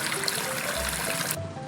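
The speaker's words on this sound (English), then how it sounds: "Lola Cat eagerly joins the water splashing celebration with a water gun, aiming at passers-by and spraying water." In an animated cartoon, a cat's water gun sprays water in a continuous hissing, splashing rush that runs through nearly the whole short stretch before easing off at the end.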